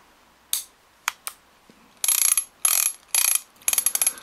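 Clicker on a Shimano Talica TAC12 II two-speed fishing reel: a few single clicks, then four rapid bursts of bright ratcheting, close and crisp in a quiet room.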